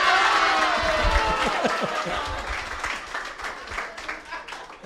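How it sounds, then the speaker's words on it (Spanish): Audience applause at a stand-up comedy show, a dense wash of clapping that is loudest at the start and thins gradually. Crowd chatter and a voice run underneath. "¡Un aplauso para el cuñado que lo hizo bien!"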